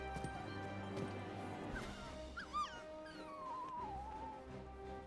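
Torgal, a dog in the video game Final Fantasy 16, gives a few faint whimpering yips over a quiet game soundtrack, the high cries rising and wavering briefly before fading.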